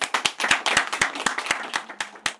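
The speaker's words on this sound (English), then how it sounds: "Can we give Ryan a round of applause?" A small audience claps for Ryan, a young man living with a disability, with sharp distinct hand claps in a loose, uneven rhythm that are loud and close and carry no voices.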